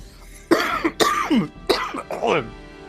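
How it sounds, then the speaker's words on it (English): A few harsh coughs and throat-clearing sounds burst out in quick succession, close and loud, with ragged breathy bursts between them. "But he coughs it out."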